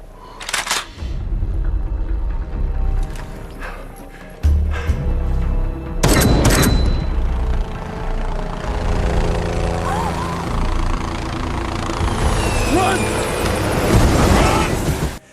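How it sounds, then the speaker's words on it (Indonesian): Loud booming sniper rifle shots ring out amid the heavy thrum of a helicopter being shot down, with a sharp blast near the middle and continuous engine noise throughout. "memutuskan untuk menembak jatuh helikopter tersebut dengan senjata snipernya"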